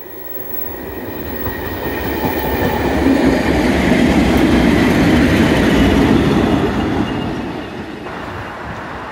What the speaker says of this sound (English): Here's a Gemini and the 1000 service to Skegness.